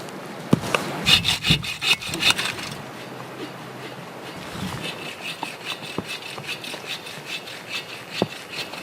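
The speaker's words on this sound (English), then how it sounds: "I bring along my handsaw, a simple tool, yet one of the most useful in this frozen forest." A handsaw cuts firewood outdoors in a frozen forest at -40C, with rough rasping strokes in an uneven rhythm, sharper at first and then softer and steadier, close by.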